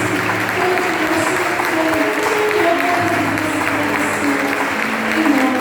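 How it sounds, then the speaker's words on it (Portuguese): A church congregation applauds during an evening worship service, steady clapping that holds at an even level throughout, with a faint murmur of voices and some musical tones underneath. "Você pode aplaudir esse Deus"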